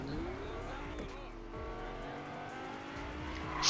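Car racing in Fortnite Creative, a video game, with a quiet engine hum and tire noise running steadily across the track before a brief louder burst at the end.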